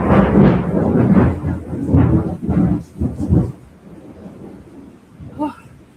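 Thunder from a lightning storm rumbles loudly and continuously for a few seconds, then fades into a softer low roll, with a brief faint higher sound near the end.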